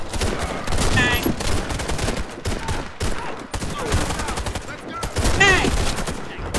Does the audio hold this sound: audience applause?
no